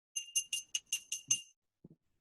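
A small bell rung to signal presentation time at a members' meeting, tinkling in about seven quick bright strokes, then a couple of faint lower taps, with no talk over it.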